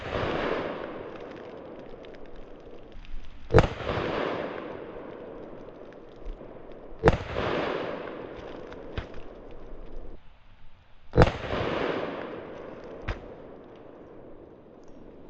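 Sharp shots from a new Smith & Wesson Bodyguard 2.0 pistol at a shooting range: three loud, close cracks, one at a time several seconds apart, each followed by a lighter pop and a fading echo over steady outdoor background noise.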